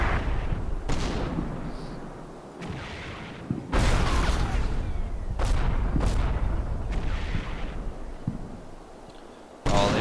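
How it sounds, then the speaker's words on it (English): Heavy mortar and artillery blasts pound a World War II tank battle in Combat Mission around Stavelot, with an 88mm gun defense against an American armor column; several loud, booming impacts land at irregular intervals over a continuous rumbling battlefield din. "Just walking through mortar fire here."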